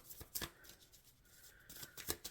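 Tarot cards are shuffled for a reading, quiet papery riffles and flicks in short bursts at the start and end with a softer hiss between.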